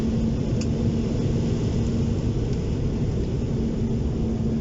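Cabin of a BA Cityflyer Embraer E190 jet taxiing, a steady broadband engine roar and rumble with a faint constant tonal whine, heard evenly throughout with no voices.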